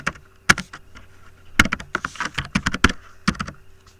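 Keystrokes on a computer keyboard, rapid irregular clicks in bursts with short pauses, close and fairly loud, no talking.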